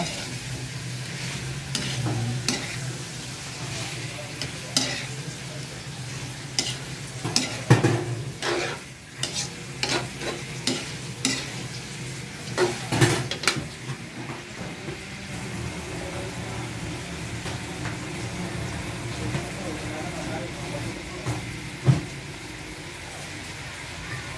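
A spoon scrapes and stirs native pork kaldereta in a sizzling pan, with irregular clattering strokes over a constant low frying hiss, close and moderately loud.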